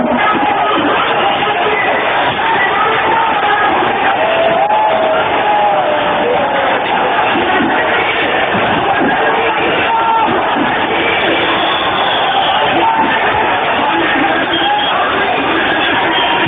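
A huge, angry, frenzied crowd roars at the 1992 demolition of the Babri Masjid, a dense continuous wall of shouting and yelling voices that never lets up, heard in narrow old-recording quality.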